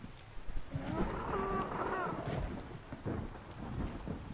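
Thunderstorm in the game ARK on Lost Island, a deep rolling rumble of thunder with rain hiss and distant wild-animal calls mixed in, steady and moderately loud throughout.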